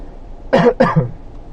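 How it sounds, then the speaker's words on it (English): A man gives two quick, close coughs in a row, brief and throaty, followed by quiet. "bit of a cough there"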